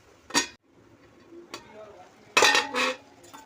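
A spoon stirs spinach curry in a pan after water has been added, making a few scattered metal scrapes and clinks with quiet gaps between them, the last two strokes louder and close together.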